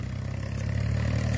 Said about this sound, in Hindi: ट्रैक्टर की आवाज से आपको थोड़ी हमारी आवाज कम सुनाई दे